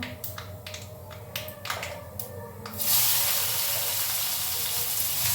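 After a few crackling pops of tempering spices, onions hit hot oil and set off a sudden loud hiss that settles into a steady, close sizzle.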